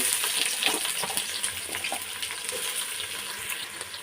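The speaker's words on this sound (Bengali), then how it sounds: "তেল গরম হয়ে আসলে পেঁয়াজ দিয়ে দিচ্ছি" Onions fry in hot cooking oil for a rice, egg, potato and vegetable biryani, producing a steady crackling sizzle with bursts of popping, close and continuous without any talking.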